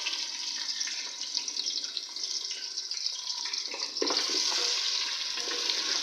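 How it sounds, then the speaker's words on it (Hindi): Onions dropped into hot ghee for a bitter-gourd (karela) dish, giving a steady broad frying hiss that swells louder about two-thirds through as they hit the fat, with no talking. "अब हम इसमें प्याज शामिल कर देते हैं।"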